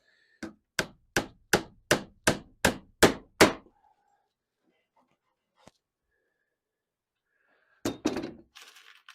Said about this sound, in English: when I pound it from the exterior of the hull, it's making contact with the clinching iron